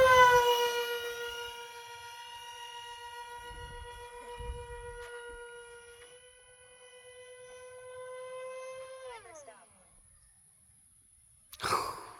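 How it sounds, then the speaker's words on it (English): Twin 64mm electric ducted fans on a Dynam A-10 Thunderbolt II RC jet whine together in a high steady tone, beating slightly out of sync before winding down, followed by a brief rustling noise. "When those motors are out of sync and it makes that little na na na na na na na na."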